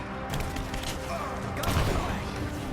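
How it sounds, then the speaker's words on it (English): Gunfire in the video game Rise of the Tomb Raider, a rapid clatter of shots heard as bursts against a busy, noisy combat background, growing denser and louder near the middle. "Under fire."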